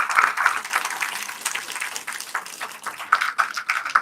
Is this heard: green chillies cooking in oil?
no